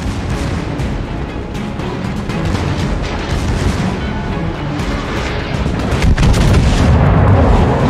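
Naval guns aboard the battleship Republique fire at a target in a naval combat video game. Loud, overlapping booms and rumbling blasts run almost continuously and grow heavier toward the end.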